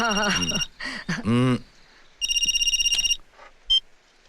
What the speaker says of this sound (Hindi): मैं फोन करता हूं।